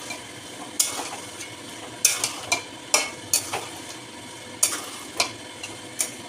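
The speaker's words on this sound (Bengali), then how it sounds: "তো মাংসগুলো এখনও নাড়িনি, তো নেড়ে নেবো।" Chicken meat being stirred as it fries in a pot, with a soft steady sizzle under a series of sharp spoon scrapes and clanks against the pot at irregular intervals, close and fairly loud, no talking.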